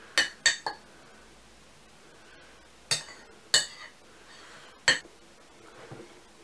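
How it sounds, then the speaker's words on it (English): A spoon clinks against a glass of butterscotch beer in several sharp, bright taps: a quick cluster of three, then three more spaced strikes, faint and close with no talk. "I'm gonna stir a bit to see if that will make any difference."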